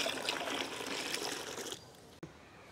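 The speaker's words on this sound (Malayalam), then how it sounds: "അപ്പോൾ നമുക്ക് ഇതിനകത്തേക്ക് ബാക്കി വെള്ളം ചേർത്ത് കൊടുക്കാം." Water poured from a mug into a container to dilute groundnut cake fertilizer, a steady close trickle and splash that stops partway, followed by a brief knock and quiet.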